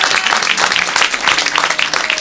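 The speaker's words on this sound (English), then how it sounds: "How about a nice round of applause?" At a lockdown concert, an audience gives a dense, steady round of applause, loud and continuous with many overlapping claps.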